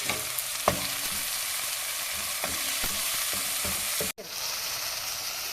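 Ginger, garlic and onions fry in a pan with turmeric for a karela curry, giving a steady close hiss with scattered stirring scrapes and a brief dip near the end.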